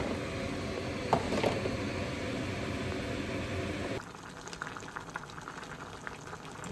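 Chickpeas, tomatoes and onions for a chickpea curry cook in a pot, giving a close, steady bubbling simmer and hiss that drops in level partway through. Nobody speaks.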